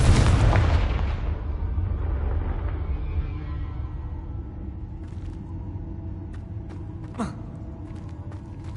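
A Confringo fire spell from Hogwarts Legacy bursts in a loud, booming blast at the start, then rumbles and decays over several seconds, with a brief whooshing flare near the end.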